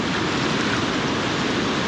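Broken water rushes steadily behind a submerged rock in a fishing stream, a dense, constant broadband wash with no pauses or voices.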